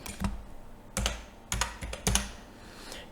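Data is typed into a computer on a keyboard: a few distinct key clacks and short clusters of taps, close and clear, over a quiet room with no talking.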